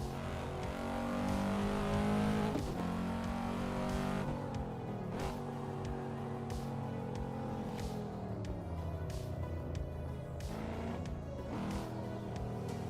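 A Volvo car driven flat out in the Assetto Corsa racing game on a Japanese setting, engine roaring and rising in pitch through gears, with short dips at each shift, loud and steady throughout.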